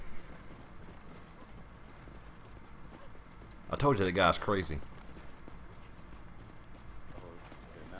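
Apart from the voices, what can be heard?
horse hooves approaching in the video game Red Dead Redemption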